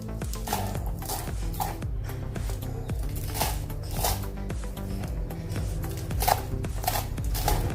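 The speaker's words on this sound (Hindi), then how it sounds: "अभी हम अच्छे से पालक को काट लेंगे।" Knife chopping fresh spinach (palak) on a board, a steady series of crisp, close taps repeating in an even rhythm with no talking.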